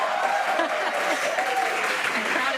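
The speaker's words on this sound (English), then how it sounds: "the crowd is going wild" A crowd cheers and applauds continuously at a SpaceX Dragon launch, a dense, sustained roar with a voice talking over it.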